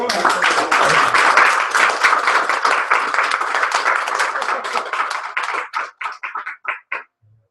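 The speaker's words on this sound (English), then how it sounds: "Have a round of applause." A room of attendees at a gathering breaks into applause, a full dense clapping that holds for several seconds and then thins to a few scattered claps before stopping.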